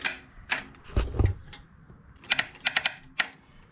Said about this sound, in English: Just got a clickety clickety.